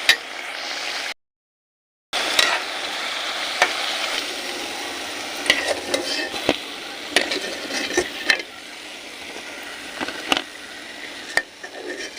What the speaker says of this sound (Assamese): অলপ ৰঙচুৱা হোৱালৈকে ভাজি থাকিম এতিয়া